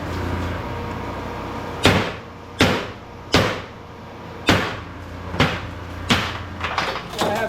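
Aluminum light fixtures from a large scrap pile are knocked apart by hand with a hammer, about eight sharp metallic blows at an irregular pace, loud and close, quickening toward the end.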